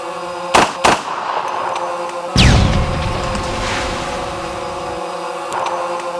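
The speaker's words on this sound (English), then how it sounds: "today we're going to shoot some Triumph System pop packs with the ANVIL from CMMG" A CMMG ANVIL .458 SOCOM rifle firing 300-grain rounds at Triumph System pop-pack targets gives two sharp, loud outdoor reports, then a bigger burst that decays into a long rumbling wash. No voices.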